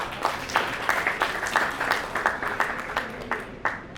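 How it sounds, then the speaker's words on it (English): Audience applause at an awards ceremony: about four seconds of moderate, rhythmic clapping from a modest crowd, fairly close and fading slightly at the end. "A warm round of applause goes to her."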